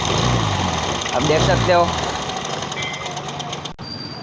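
A Hero Maestro Edge scooter engine idles after starting in a workshop during engine fitting work, a steady close mechanical running hum with someone speaking over it before it cuts off sharply near the end.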